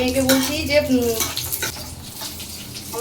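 Cashews and raisins fry in ghee, a loud close sizzle mixed with clinks of a spoon on the pan. A voice is heard briefly near the start.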